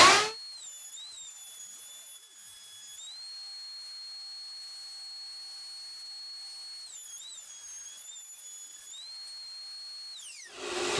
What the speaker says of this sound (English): we'll move the piece across the router bit from right to left